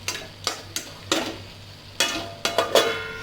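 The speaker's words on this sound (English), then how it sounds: "Keep sauteing this till this entirely cooks and cover this with a lid so that it can continue cooking." Capsicum rice with haldi and salt is stirred in a pan: a series of sharp scraping strokes, about eight, at an uneven pace over a faint sizzle and low hum.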